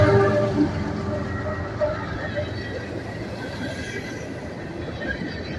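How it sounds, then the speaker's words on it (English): A southbound coal train rumbles past in Abbeville, with a steady low roar of heavy cars and faint wheel squeal. "I got a coal train heading southbound"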